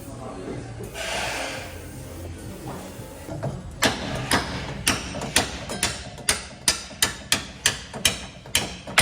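A part on a Land Rover is hammered through a hole during a test fit of a new grille, bumper and steering guard: about a dozen sharp, evenly spaced metallic knocks, close and loud, following a quieter stretch of workshop noise.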